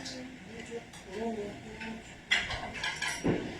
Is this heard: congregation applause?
no